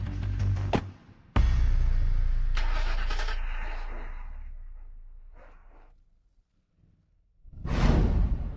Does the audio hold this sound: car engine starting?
yes